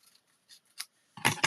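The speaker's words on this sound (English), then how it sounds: "Grab the scissors that aren't your ribbon scissors." Scissors cut cardstock for card making, with a few faint light snips at first, then two louder, close, crisp crunching cuts at the end.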